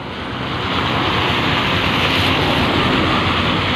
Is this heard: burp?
no